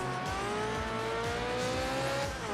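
Race car engine droning and shifting pitch in Project Gotham Racing 3 as the car loses control on dirt, a steady loud whine with rising and falling harmonics and no talk over it.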